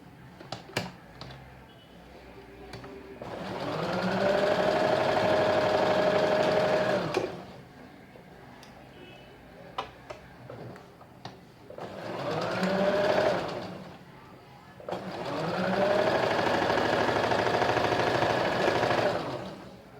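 An electric sewing machine double-stitching the shoulder seam of a kurti, three long steady whirring runs of a few seconds each separated by short pauses and small clicks, close and clear.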